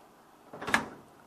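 A GE dryer door swings shut with a single soft thump, heard alone at moderate loudness in a quiet room.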